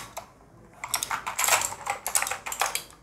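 Keys clack on an EK368L wireless mechanical keyboard in quick irregular bursts, close and crisp, a short typing run with no speech.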